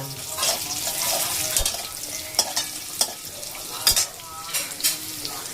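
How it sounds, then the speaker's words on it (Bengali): Dry-roasted peanuts with potatoes and onions frying in oil sizzle steadily, with a spoon scraping and stirring and a few sharp knocks against the pan; no talk. "দিয়ে একটু তেল দিয়ে ভেজে নিলাম।"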